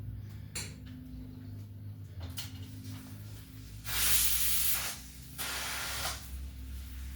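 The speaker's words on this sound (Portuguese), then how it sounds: "Eu vou tirar a pressão desse feijão" A pressure cooker full of beans, set on a wood-fired stove, lets off steam in loud hisses. Two strong bursts stand out over a lower background hum, with fainter short spurts before them and no talking.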